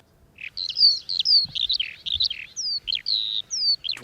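A skylark sings overhead above open English farmland, a continuous run of bright, warbling, high-pitched trills and chirps pouring out without pause, fairly close and clear against a quiet background.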